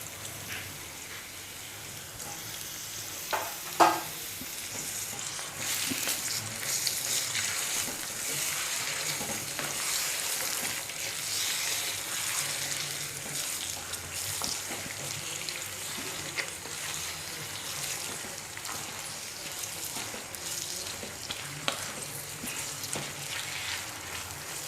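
Chicken keema sizzles and fries steadily in a pan for a homemade samosa filling, with occasional scraping and stirring clatters over a continuous bright crackle, close and moderately loud.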